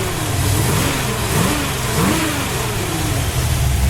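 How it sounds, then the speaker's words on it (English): A 1972 Chevelle SS V8 revs loudly up close, the engine rising and falling through several quick throttle blips over a steady rumbling idle. "Very responsive engine."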